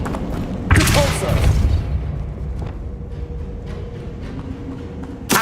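The Depulso repelling spell cast in Hogwarts Legacy, a loud booming thump and burst near the start followed by a rumbling decay and lingering game ambience.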